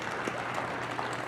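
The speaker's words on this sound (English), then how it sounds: "What about a round of applause for all of our Pee Wee showmen that we had out this evening?" Brief burst of crowd applause for young pee wee showmen at a spring dairy expo showmanship event, a dense wash of clapping lasting only a moment.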